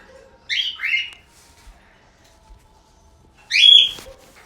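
A pet bird gives two pairs of sharp, close whistled calls, one near the start and another after a quiet gap, with faint background noise in between.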